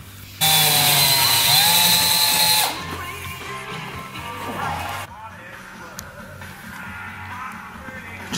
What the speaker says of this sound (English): I'm going to go ahead and drill a hole in each end